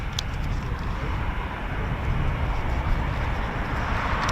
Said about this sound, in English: I can hear a Typhoon spooling.